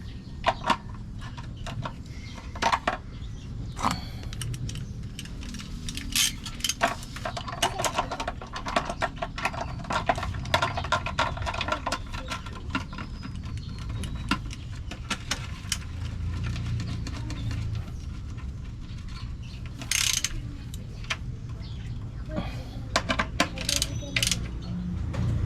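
A ratchet works on the transmission pan bolts of a Toyota Grandia, giving rapid, repeated clicking bursts and sharp metallic knocks over a steady garage background for a long stretch, with no talking.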